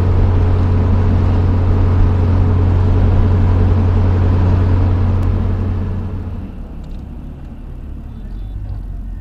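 A Toyota driving on a road in Mauritania, heard from inside as a loud, steady engine drone and road rumble that eases to a lower, quieter hum toward the end.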